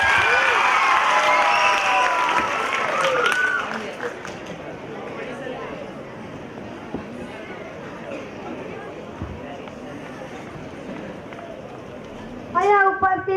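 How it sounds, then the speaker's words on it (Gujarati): Audience applause and cheering at a school annual day celebration, loud at first, then fading into a murmuring crowd with scattered claps, and a brief burst of noise near the end. "તાળીઓ પાડો"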